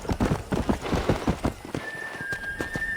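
A horse trots in the Red Dead Redemption western game, with quick rhythmic hoof clops on the ground, close and loud, then a brief neigh and a thin whistle-like tone near the end.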